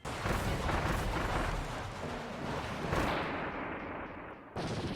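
Bomb explosions in the video game Kirby and the Forgotten Land: dense, loud booming blasts rumble continuously for several seconds, with a strong burst near the end.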